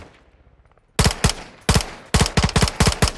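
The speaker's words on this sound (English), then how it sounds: "I'll get him with a sniper shot" Rapid bursts of loud, close gunfire in a first-person shooter, a quiet lull followed by about eight sharp cracks in quick irregular succession, more like automatic fire than a single sniper rifle shot.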